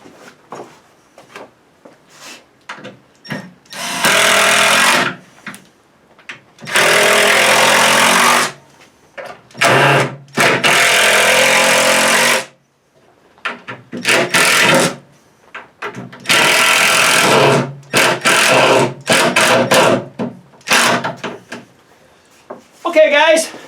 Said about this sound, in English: I'm just going to fire in them screws